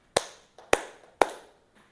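Three sharp hand claps from a classroom of students, evenly spaced about half a second apart, each crisp and close with a short decay, followed by quiet.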